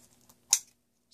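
A single crisp snip of scissors cutting through the plastic packaging of a trading card game box, one short bright click in an otherwise quiet room.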